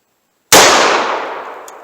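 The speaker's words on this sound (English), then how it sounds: "Let's see kind of velocity and accuracy we get through the Smith & Wesson 686 here" A single sharp gunshot from a Smith & Wesson 686 revolver firing Blazer .357 Magnum ammunition at a chronograph a few yards away, loud and close, with a long ringing decay.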